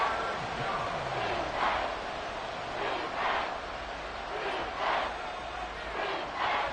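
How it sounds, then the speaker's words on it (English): Football stadium crowd at a Chiefs vs Steelers NFL game roaring loudly, a dense, sustained wash of cheering that swells in repeated waves, with a commentator talking over it. "This crowd turning up the decibel level"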